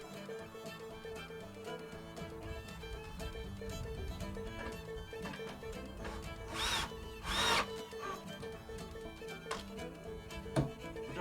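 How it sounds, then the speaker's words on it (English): A screwdriver drives screws into a wooden farmhouse-style magic mirror frame, a continuous close mechanical whirring with a couple of louder grinding bursts near the end, no speech. "I'll get a screwdriver now"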